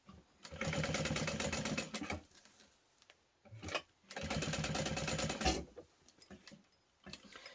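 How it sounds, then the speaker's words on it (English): A sewing machine stitches a fabric portable Switch console case in two long, steady whirring runs, each with a short burst between them, loud and close with no voices. "I'm going to sew on both sides of both of these"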